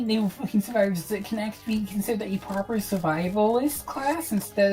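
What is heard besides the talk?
No everyday noise stands out behind the speech.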